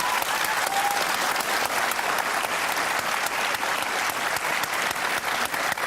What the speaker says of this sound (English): I saw you applauding that question